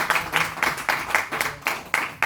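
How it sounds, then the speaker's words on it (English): An audience at a London site-management training session claps after a presentation, delivering a short burst of about eight distinct, fairly quiet claps. "Let's give him a round of applause first"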